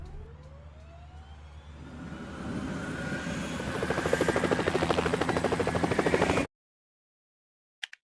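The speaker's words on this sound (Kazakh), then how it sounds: "Өрт сөндіру тікұшағы." A cartoon firefighting helicopter's rotor and engine drone builds in loudness over several seconds, then cuts off abruptly, followed by a brief faint tick.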